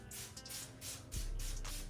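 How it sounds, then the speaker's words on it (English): Moisture cleanse spray is misted onto natural 4C hair in several short, soft hissing bursts, close and quiet, with a low background hum. "Now what I'm going to do is add this moisture cleanse spray to my hair,"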